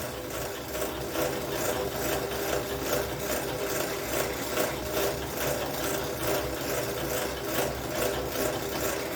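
Fine-grit sandpaper around 600 to 1,000 grit rubs steadily over a rubber pro-stock pulling tire, a continuous close rasping hiss with a faint rhythmic pulse and no pauses.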